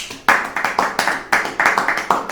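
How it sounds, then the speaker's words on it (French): A church congregation claps in unison in a steady, brisk rhythm to acclaim Jesus during a worship service, close and loud with no talk over it. "Acclamons pour le roi des gloires."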